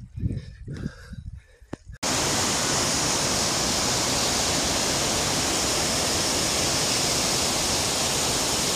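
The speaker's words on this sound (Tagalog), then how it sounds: "Yan po ang falls na sinasabi." A waterfall near Inlagadian, Casiguran, Sorsogon roars as a loud, steady wash of broadband rushing water that starts abruptly and holds unbroken, after a brief moment of nearby talk and rustling.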